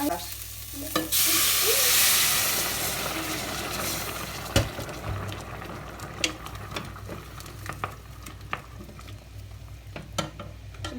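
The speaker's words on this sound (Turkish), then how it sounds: "Suyunu göz kararı koyuyorum." Water is poured into a pot of vegetable soup with semolina and bulgur. A broad, rushing pour swells early and fades. Scattered clinks and small knocks of the pot and utensils follow, with no speech.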